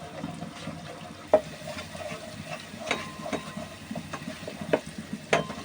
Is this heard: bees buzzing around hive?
no